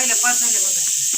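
Steam shrieks steadily from a pressure cooker's whistle in a household kitchen, a loud unbroken hiss heard beneath a speaking voice.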